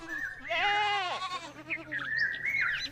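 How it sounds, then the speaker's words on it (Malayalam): A lamb bleats close by in a few wavering, drawn-out cries, with a faint chirp in the background. "ഹാബീൽ തൻ്റെ സമ്പാദ്യത്തിലെ ഏറ്റവും നല്ല ആട്ടിൻകുട്ടിയെ അള്ളാഹുവിനു വേണ്ടി തിരഞ്ഞെടുത്തു"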